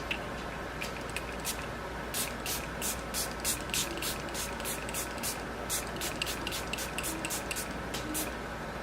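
Huda Beauty Resting Boss Face setting spray mists from a pump bottle in a rapid run of about a dozen short, sharp hissing sprays, close and fairly loud over a soft room background.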